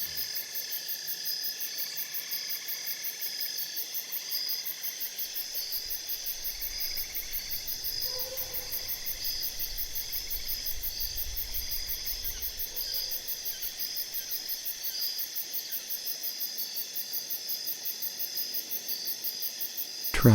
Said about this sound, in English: Try to hear just the sounds of crickets.